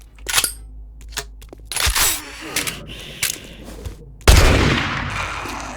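Gunfire in a video game, including a headshot, rings out as several sharp, loud shots spread across a few seconds and ends in a heavy blast, with a player talking over it.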